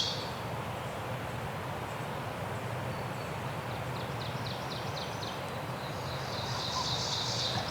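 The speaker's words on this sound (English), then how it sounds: "Probably heard about 4 different birds already." Wild birds call in spring woods during a turkey hunt, their faint, distant chirps and short trills rising now and then over a steady outdoor hiss.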